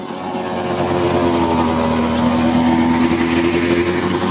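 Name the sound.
tractor running Dig Shero rotavator in waterlogged field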